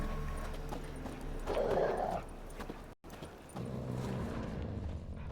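Dogs in The Witcher 3 game world, with barking and whimpering sounds mixed among hoof clip-clop and ambient game noise, steady and moderately loud with a brief dropout midway.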